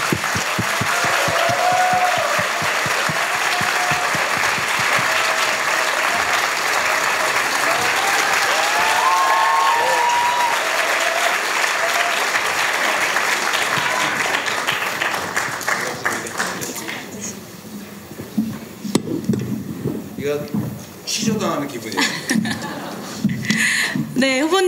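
A lecture audience of university students in Gwangju bursts into loud clapping and cheering to welcome a candidate, a strong sustained roar for about fifteen seconds that then thins out as a voice begins speaking.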